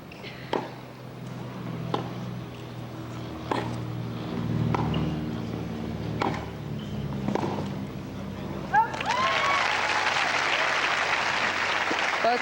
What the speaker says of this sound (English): And a great round of applause for the 2 former Matinee Limited International